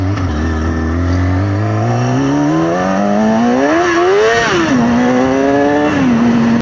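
A motorcycle engine rises steadily in pitch as it accelerates, peaks with a quick rev, then settles into a steady loud drone, heard up close.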